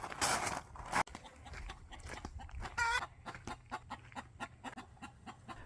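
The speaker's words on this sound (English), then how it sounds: "let's go feed the chickens" Chickens cluck and squawk close by at feeding time on a farm property, a rapid run of short clucks with a rooster-like call among them, fairly quiet, with some rustling.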